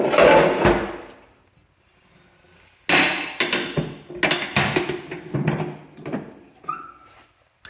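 The metal door on a 1917 TUEC central vacuum is handled, giving a sharp clunk, a pause, then a run of close knocks, rattles and scrapes of the old hardware, with a faint squeak near the end.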